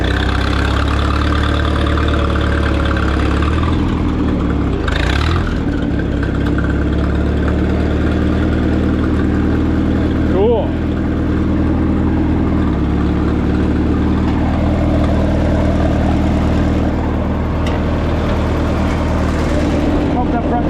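A Minneapolis-Moline 4 Star tractor engine runs loud and close with a steady low drone and a brief change in pitch partway through, while someone talks over it.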